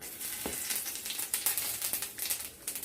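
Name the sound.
whole cumin and dried red chilies sizzling in hot oil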